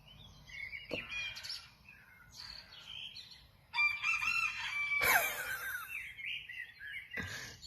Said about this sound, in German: Dieser Hahn, das ist der crazy Hahn ever auf der Welt.